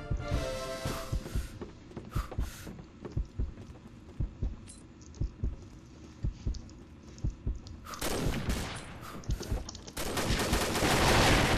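Sharp gunfire bursts from the online shooter game Combat Arms, rapid cracks scattered through the stretch and turning into dense, loud sustained volleys near the end.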